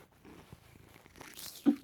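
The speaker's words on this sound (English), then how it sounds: "So you probably hear nothing but her purring." A cat purrs right against the microphone, a soft, low, rhythmic rumble with light rustling and a brief bump near the end.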